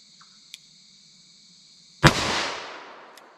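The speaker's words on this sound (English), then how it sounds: "let's see what we get here with our 357 Magnum through our 4 1/8 inch barrel" A single loud, close gunshot from a .357 Magnum handgun with a 4 1/8 inch barrel, firing a Hornady XTP handload, cracks sharply and leaves a decaying echo after a quiet stretch with a faint electronic tone.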